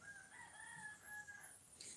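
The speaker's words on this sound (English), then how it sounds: "That's the random rooster. That's the rooster that does not live here." A rooster crows once in the background, faint and somewhat distant, over a steady low hiss of room noise.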